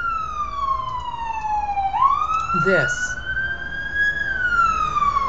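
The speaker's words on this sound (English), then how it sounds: "So the ambulance in the background was coming for them" An ambulance siren wails in the background, its pitch sweeping down and then rising and holding steady, while a voice speaks briefly over it.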